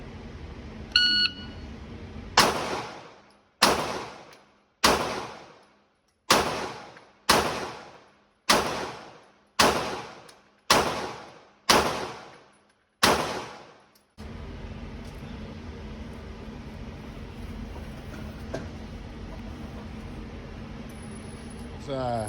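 Pistol fired at an outdoor shooting range after a shot-timer beep, about ten sharp, loud shots in a fast even string, then steady background noise with a faint beep near the end.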